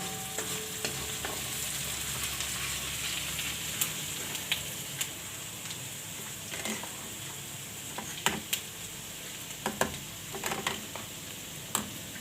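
Chickpea-flour gundi curry with yogurt being stirred in a frying pan: a steady close sizzle with scattered scraping clicks of the spoon, no voices.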